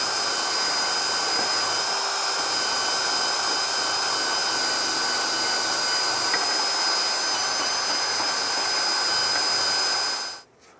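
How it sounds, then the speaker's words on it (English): A steady, loud high-pitched whirring of a drill-driven wire wheel grinding rust off a 1996-2002 Toyota 4Runner control arm, holding constant before cutting off abruptly at the end. "I'm going to use a wire wheel on a drill just to remove the debris, remove the rust"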